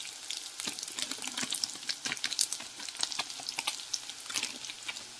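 Chicken sizzles and crackles in a pan with chicken masala while being stirred, giving dense close spitting bursts and scraping over steady frying.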